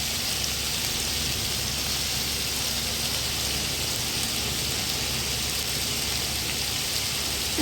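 Snake gourd (chichinga) frying in oil for a long time, a constant dense hiss and crackle of sizzling that holds steady throughout without speech.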